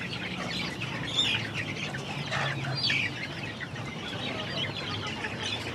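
Clucks from chickens kept in a cage on a small home broiler farm, a few short calls rising over steady farmyard background noise, with no talking.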